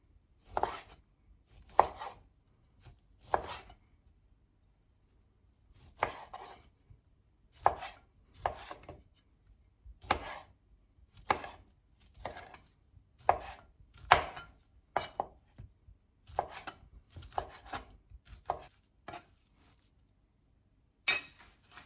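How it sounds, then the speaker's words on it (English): A knife chops sausage on a cutting board in quick clustered bursts of sharp taps, separated by short silent pauses, close by in a quiet kitchen. "I'm also going to go ahead and cut up my sausage."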